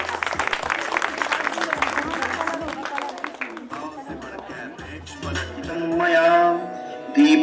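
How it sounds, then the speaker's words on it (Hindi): Audience applause at a Women's Day celebration: dense, steady clapping from a crowd fills the first few seconds, then thins out as voices and music take over. "ये देखिए, और जोरदार तालियां हो जाए।"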